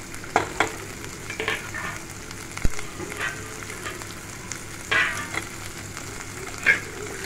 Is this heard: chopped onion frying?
yes